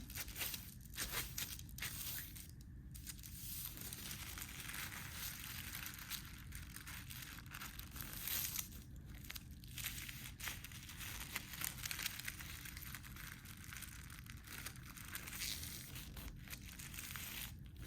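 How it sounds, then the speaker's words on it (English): Thin tissue paper folded into many layers and cut into fringed strips, giving continuous close crinkling and rustling with scattered sharper snips, faint and steady with no talk. "I want to kind of fringe those strips. So I'm gonna fold it up because it's super thin and you can cut into a lot of layers at one time."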